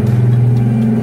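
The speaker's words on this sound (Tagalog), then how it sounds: "may motor sa likod" A motorcycle engine drones past just outside an open house, a steady low mid-pitched hum held for about a second, fairly close and loud.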